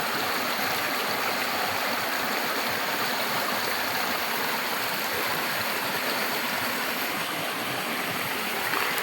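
A stream flows loudly and continuously, its close, steady rushing and bubbling water sustained without pause and with no voices.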